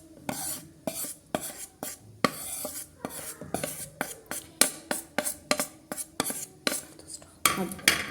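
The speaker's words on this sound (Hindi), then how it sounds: "अब ये मिक्स करना है हमें इस तरह से, सारा अच्छे से मिक्स कर लेना है।" A spoon stirs custard powder into cold milk in a bowl, scraping and clinking against the sides in a steady repeated rhythm, close and clear, with no talking.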